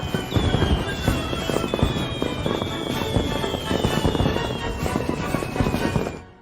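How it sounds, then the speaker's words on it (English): A Family Guy cartoon fireworks show with dense, rapid crackling bursts and whistling rockets climbing overhead, loud and continuous, without speech. "we now go to this totally boss fireworks show."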